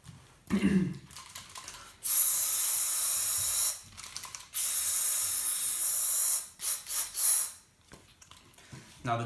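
A voice imitates a spray can with bursts of breathy, high hiss, one short puff then two long sustained blasts and a few quick spurts, close and fairly loud with no talking.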